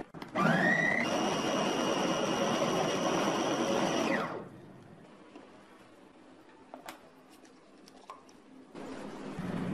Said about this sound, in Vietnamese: Xay cái này trước cho nó nhuyễn ra